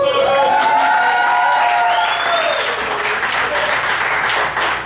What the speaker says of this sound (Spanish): Aplausos para mi amigo Sonrisas.